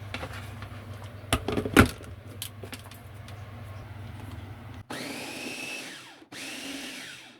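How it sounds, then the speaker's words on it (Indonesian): Food chopper whirring as it grinds white bread for a caramel brownie pudding: a steady motor drone with crunchy bursts, then two louder, higher-pitched runs that rise and fall in sequence, close and loud. "Selanjutnya ini akan saya chopper."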